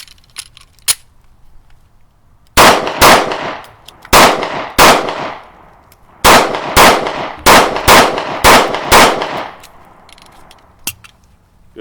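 A SCCY pistol fires about a dozen loud, sharp shots in quick succession at close range, in uneven clusters, each with a short ringing tail.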